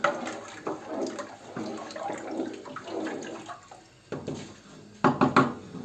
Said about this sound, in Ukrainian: І сюди тепер вливаємо 11 літрів води.